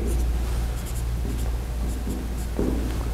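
A marker scratches continuously on a board as a graph of an exponential function is sketched during a lecture, close and steady with short strokes and squeaks over a constant low room hum, with no speech.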